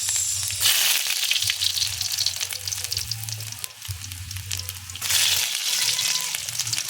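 Garlic sautéing in a pan while cooking ginataang pagi, a steady loud sizzle with stirring that dips briefly midway, then swells again, no voices.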